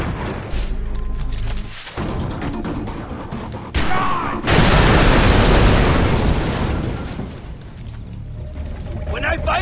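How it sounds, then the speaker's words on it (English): A grenade goes off in the video game Far Cry 3 with a loud, sudden blast and a long roaring decay. Voices and game noise come before it. "Grenade!"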